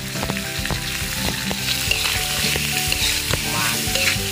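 Ripe plantain and fish sizzle and crackle loudly in a hot pan, with steady frying hiss and repeated scraping stir strokes, close and without talk.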